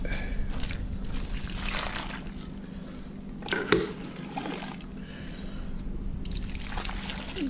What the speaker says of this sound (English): We're gonna go ahead and just pour it all over that.